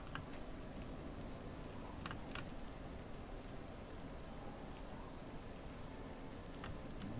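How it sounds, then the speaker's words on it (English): Steady rain falls in the video game Oblivion, a soft, even patter that stays constant throughout with a few faint drop ticks, heard alone without any talk. "And it's still raining, of course."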